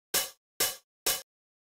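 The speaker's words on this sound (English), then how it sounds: "it's like an old drum machine hi-hat sample I had" Three short, bright noise bursts from an old drum machine hi-hat sample, evenly spaced about half a second apart, each a crisp hiss that fades quickly, with silence between them.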